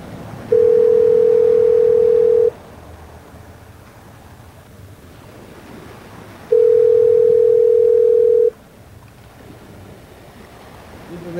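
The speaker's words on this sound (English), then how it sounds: "let's call Reese." Telephone ringback tone on an outgoing call that goes unanswered: two long, loud, steady tones about four seconds apart, each lasting roughly two seconds, with quiet line hiss between them and no voices.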